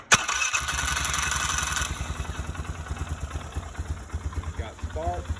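A 2012 Polaris Sportsman 500 HO ATV with a spark problem cranks and catches after a sharp click, then runs in a rough, uneven idle nearby, with a few faint tonal sounds near the end and no clear speech.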